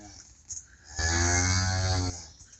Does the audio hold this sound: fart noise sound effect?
no